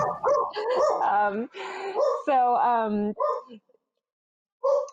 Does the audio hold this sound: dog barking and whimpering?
yes